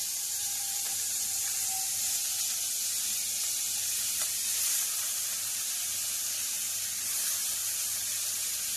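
Four or five chopped onions browning in hot oil for a Bengali mutton dish, giving a steady, even sizzle and hiss that holds without a break, with a few faint clinks in the background.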